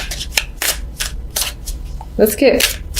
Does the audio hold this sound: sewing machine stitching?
no